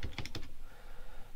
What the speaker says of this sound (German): Ich denke mir jetzt ein Passwort aus